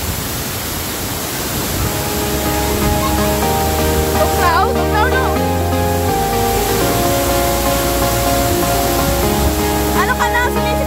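Bangon Tarangban waterfall in Calbayog City roars with loud, steady rushing water across the whole stretch, while people talk over it in the foreground.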